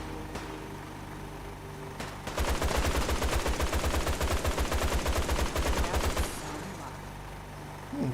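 Rapid gunfire from a multi-barrel weapon in Fallout 4 with the Sim Settlements 2 mod, a steady burst of evenly spaced shots running about four seconds, loud and alone against quiet game ambience.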